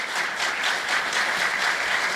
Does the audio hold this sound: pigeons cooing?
no